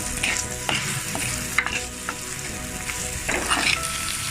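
Onions and tomatoes frying in a clay pot give a steady sizzle and bursts of stirring and scraping with a spatula, close and fairly loud, with no voices.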